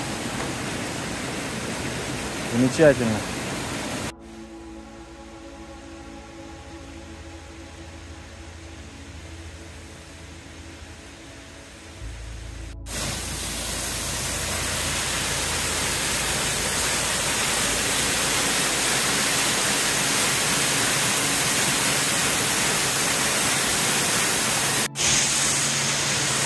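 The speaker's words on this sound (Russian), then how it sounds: "Бомбический водопадик" A small waterfall swollen by rain on a mountain trail in New Hampshire roars as a steady broad rush, loud and continuous through most of the stretch, after a brief spoken word and a quieter, muffled passage.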